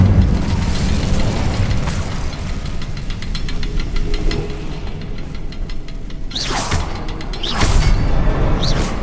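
A fire spell cast in the Hogwarts Legacy video game, heard as a sustained roaring, rumbling whoosh with two sharper bright bursts flaring near the end, loud and continuous with no talking.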